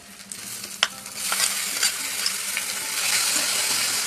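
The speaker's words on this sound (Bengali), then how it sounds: "এরপর কড়াইতে তেল দিয়ে পেঁয়াজ আর রসুনটাকে ফ্রাই করে নিচ্ছিলাম।" Grated onion and garlic fry in oil in a kadai, a steady crackling sizzle with occasional sharp clinks and scrapes of stirring, close and fairly loud, with no talking.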